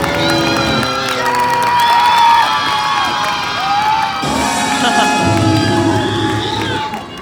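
An audience at a street performance in an amusement park cheers loudly, with children shouting and some clapping mixed in. The lively crowd noise is close and sustained, and a performer's voice rises above it at times.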